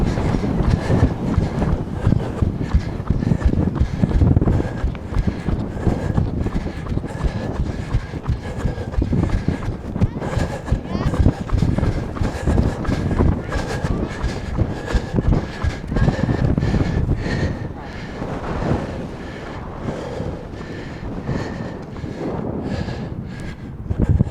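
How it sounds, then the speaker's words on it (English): Strong gusty wind on Sandymount Strand buffets the microphone throughout, a constant roaring rumble with surging bursts and no voices. "Oh, it's windy."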